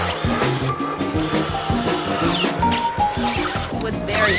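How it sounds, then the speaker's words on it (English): Power drill boring pilot holes on a front porch build, with a whining motor that revs and stops in short bursts, close and loud over a busy cluttered background. "But first I gotta make some pilot holes."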